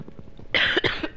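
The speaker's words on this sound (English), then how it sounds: "Just a little cough." A single short, sharp cough bursts out close by after a moment of quiet, low-level sound.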